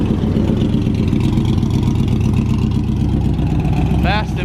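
A supercharged car engine, its blower exposed, rumbles and revs steadily as cars leave a car show, loud and close with a brief higher whine near the end.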